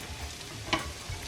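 Diced onion frying in a little oil in a pan, a soft steady sizzle close by with a single brief scrape or clink partway through.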